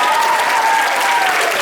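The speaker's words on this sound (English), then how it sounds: "clap for that" An audience at a Broadway fan convention panel claps loudly and continuously, a thick, even burst of applause with a faint tonal hum running underneath.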